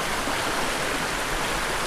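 A brook near an off-grid cabin, a smaller branch of the stream, rushes past in a steady, close, broadband wash of flowing water that stays even and unbroken, with no voices.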